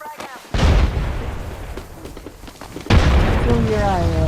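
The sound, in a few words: frag grenade explosion in video game Apex Legends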